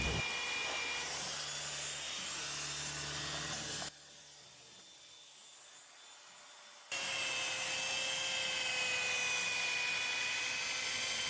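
A buffing pad machine cuts scratches out of aluminum skin on a Cessna aircraft, whining steadily up close, pausing for a few seconds, then resuming at similar loudness.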